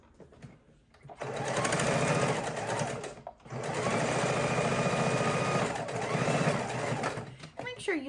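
Sewing machine stitching a fabric seat belt cover, two long steady runs of rapid needle chatter separated by a brief pause, close and clear, with a person talking quietly around the stitching.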